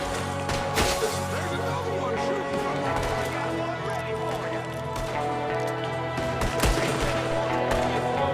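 Gunfire rings out in the Red Dead Redemption 2 video game, with scattered shots and bursts over game sound effects and music while people talk throughout.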